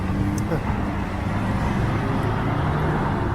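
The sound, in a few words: city street traffic in Toronto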